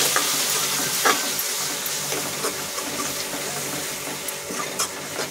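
Tomatoes sizzle in a hot pan of oil while egg masala cooks, a steady hissing fry with scattered crackles and pops and occasional stirring clatter, close and continuous.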